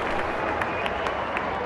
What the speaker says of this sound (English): Crowd going mad here.